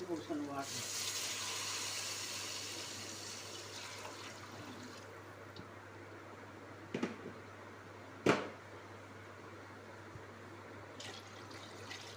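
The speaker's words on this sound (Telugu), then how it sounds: "వాటర్ కూడా పోసేసుకుంటున్నాం, కావాల్సిన వాటర్ అన్నమాట" Water pours steadily into a pot for cooking rice, with a soft, hissing gush that fades over several seconds, followed by a couple of sharp metallic clinks.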